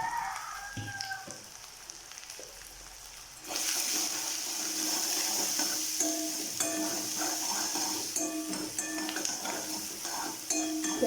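Egg pepper fry masala is stirred in a hot pan. After a quieter start with a few clinks, a steady loud sizzle begins, with scraping stirs and utensil taps running through it.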